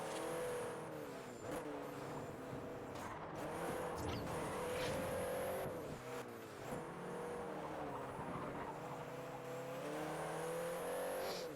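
A Citroen races in the Forza Horizon game, its engine droning continuously with rising and falling revs through gear changes, loud and steady throughout without talk.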